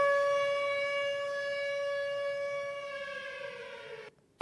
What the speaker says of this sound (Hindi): सायरन की आवाज यहां पर